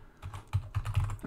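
Several quick keystrokes rattle on a computer keyboard, close and fairly loud, in an uneven burst of clacks with no talking.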